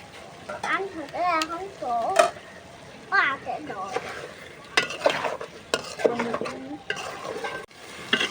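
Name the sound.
stir-frying curry in a pan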